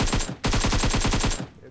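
Automatic gunfire in a shooting video game: a short burst, a brief pause, then a long rapid string of evenly spaced shots, loud and close.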